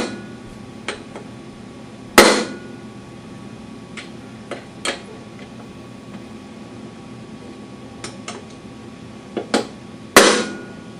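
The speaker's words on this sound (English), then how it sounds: "take it here, the decent size hammer," A decent-size hammer drives a punch against a lawn mower flywheel during a blade and pulley adapter repair. Sharp metallic strikes ring out irregularly, with two loud blows and several lighter taps over a faint mechanical hiss.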